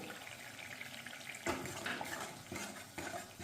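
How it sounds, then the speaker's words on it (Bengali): A little leftover bowl-rinsing water poured into a frying potato curry for Bengali aloor dum, giving a steady close splashing hiss with a few louder gushes and sizzles, no voices. "অল্প একটু জল দিয়ে দেবো"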